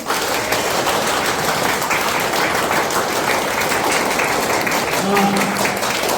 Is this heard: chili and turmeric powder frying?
no